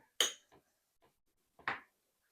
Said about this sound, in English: I'm just using this spatula here, trying to get everything mixed together.